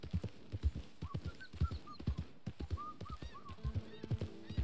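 Horse hooves clip-clopping in Red Dead Redemption 2, a steady rhythmic trot of close, moderately loud hoof beats with faint bird calls over a game ambience.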